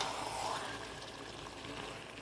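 Meat poured into hot oil spiced with turmeric, chili, cumin and salt, giving a soft continuous sizzle that starts with a brief pouring rush and then settles into a low steady hiss.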